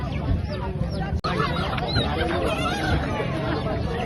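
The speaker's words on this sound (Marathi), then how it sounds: "इथं कावेरी ब्रीडच्या कोंबड्या आलेल्या आहेत." Kaveri breed chickens at a busy Sunday poultry market in Akola cluck and squawk amid a dense, constant crowd din, with voices talking nearby.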